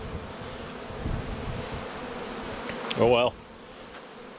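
Bees buzzing around an empty beehive, a steady close swarm hum throughout, with a brief spoken remark near the end over the buzzing.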